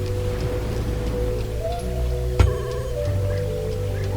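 Steady gray rain falls in the Minecraft video game, a continuous soft hiss under a low ambient hum, with one brief sharp knock partway through.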